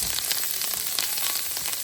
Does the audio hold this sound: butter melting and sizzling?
yes